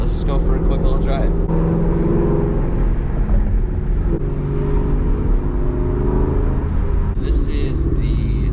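A Ford Mustang GT out on a drive gives a steady, loud engine rumble and road drone from inside the car, continuous throughout with little change in pitch.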